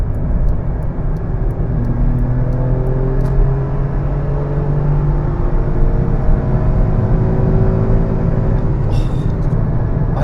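A BMW M140i engine drones loudly from inside the car, a steady sustained roar held high with rising tonal sweeps, heard close and continuous.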